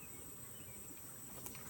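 Honey bees buzzing around a healthy, busy hive with some bearding, a steady soft insect hum with no talk.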